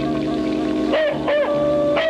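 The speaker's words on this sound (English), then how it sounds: "she was distracted by the incessant barking of her dog" A dog barks incessantly near a widow's isolated home in the wilderness of northern Washington, giving a few sharp, fairly loud barks about a third of a second apart over a low background hum.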